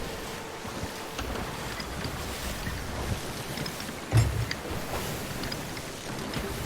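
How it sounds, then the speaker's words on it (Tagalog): High ocean waves slosh around a small boat at sea, a steady wash of water and wind noise with a louder splash or knock partway through, no talking. "Ang taas ng alon eh"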